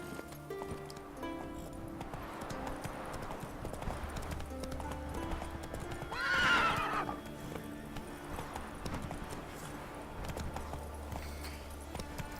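Roach, a horse in The Witcher 3 video game, with steady clip-clop hoofbeats running throughout, a whinny rising loudly near the middle, and game music underneath.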